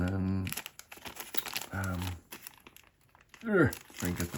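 Plastic blind box packaging for a Disney Stitch Miniso figure crinkles and tears in short bursts between stretches of talk.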